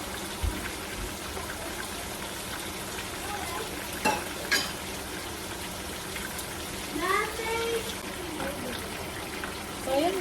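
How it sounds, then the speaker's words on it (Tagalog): Cocktail liquid comes to a boil in a cooking pot in an Ilocano kitchen, giving a steady bubbling, sizzling wash that runs throughout at moderate level, with a few brief clinks and a short burst of voices near the end. "kumukulo na yung ating pang-cocktail"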